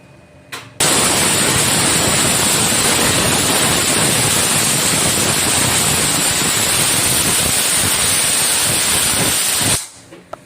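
A pressure cooker on a stove vents steam in one long, loud, continuous hiss while cooking ghee rice, a bright whistling edge running through the rush before it cuts off abruptly near the end.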